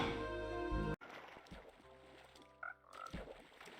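Frogs in Minecraft croak in short bursts over a busy background of water and game ambience, with a dense tonal sound at the start that cuts off abruptly.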